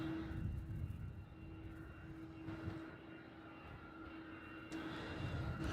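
A Qantas Boeing 747 four-engine jet operated by ASL, in from Sydney, on final approach at Melbourne Airport, giving a steady, moderately distant engine roar with a low rumble that swells slightly toward the end.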